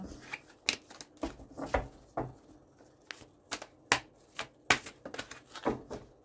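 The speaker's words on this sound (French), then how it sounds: "J'ai pas dû bien mélanger mes cartes." A deck of tarot cards is shuffled close up, giving crisp, irregular snaps and riffles with short gaps between them and no voices.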